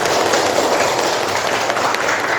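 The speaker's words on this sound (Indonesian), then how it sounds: "Oke, tepuk tangan untuk kita semua." A class at a physics session gives loud, dense applause, a continuous crackling roar of many hands clapping together that stays close and unbroken throughout.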